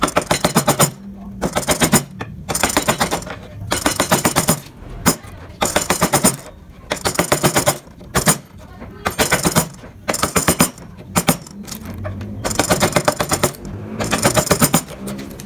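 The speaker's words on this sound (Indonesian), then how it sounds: "kita jorokkan ke dalam, kita cekungkan ke dalam menggunakan pahat penguku" A gouge chisel cuts a hollow into wood in repeated short bursts of rapid, sharp tapping and scraping, close and loud, in an irregular start-stop rhythm across the whole stretch.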